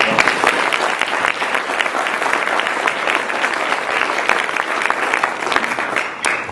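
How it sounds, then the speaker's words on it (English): Sustained, even applause from a meeting audience at a conscious capitalism chapter event, crisp close claps forming a dense wall of sound with no speech over it. "So if we could just get a round of applause for his hard work."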